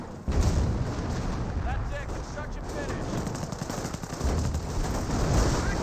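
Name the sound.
25-pounder artillery barrage in the video game Company of Heroes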